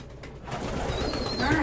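Pet pigeons or doves cooing softly at close range during a treat session, a low rolling coo rising near the end over faint room noise.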